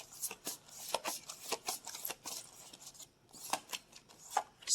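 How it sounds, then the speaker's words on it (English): A deck of zodiac cards being shuffled by hand, quick papery riffles and slaps in uneven bursts, close and fairly soft, with a brief pause midway. "I'm going to shuffle these zodiac cards"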